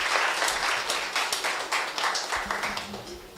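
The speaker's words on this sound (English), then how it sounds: "A huge round of applause for Rebecca." Audience applause at a fintech conference as a speaker is welcomed, dense steady clapping from a crowd that gradually tapers, with faint voices mixed in.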